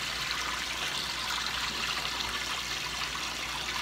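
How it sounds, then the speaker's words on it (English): Water drains out of a portable washing machine after a wash, a steady rushing trickle that flows evenly and continuously, fairly close and without speech. "That's the water that's coming out of the washer"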